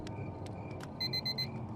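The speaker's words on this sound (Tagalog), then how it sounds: "Nag-alarm na naman." An alarm clock goes off with four quick, bright electronic beeps in a steady burst near the end, sounding close and clear over a soft room background.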